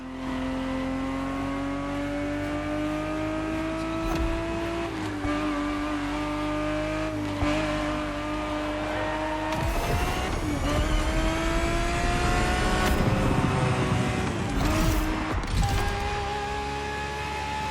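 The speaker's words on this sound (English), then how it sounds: "The Ferrari 365 GTB4 is the perfect vehicle for you to experience Ferrari racing as it felt back in the 70s" A Ferrari 365 GTB4 racing in The Crew Motorfest: the engine revs hard and steady, dipping and climbing through gear changes, with bursts of tire squeal and skidding midway, loud and continuous without speech.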